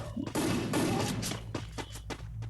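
Rapid bursts of gunfire from a shooter video game, loud and dense at first, then separate sharp shots that thin out toward the end, with no talking.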